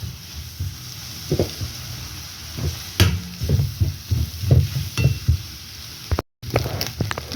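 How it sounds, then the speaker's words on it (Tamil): Egg frying in a pan for a prawn puttu stir-fry, with a steady low sizzle broken by frequent stirring knocks and scrapes of a utensil, close and alone without talk. "முட்டையெல்லாம் நல்லா வதங்கி வந்துடுது, பொரிஞ்சு வதங்கி வந்துட்டு"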